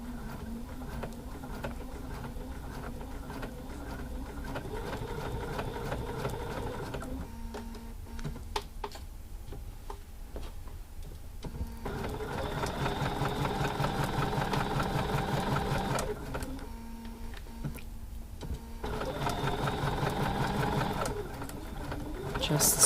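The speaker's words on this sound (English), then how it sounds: "Just sewing a nice 1/4 inch seam." A sewing machine stitching a quarter-inch seam on fabric, a steady whirring, rattling run that pauses and restarts several times, close and clear, with a voice talking over parts of it.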